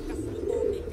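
Pigeons in a loft give a brief, low, throaty coo, close and fairly clear, over a soft background rumble.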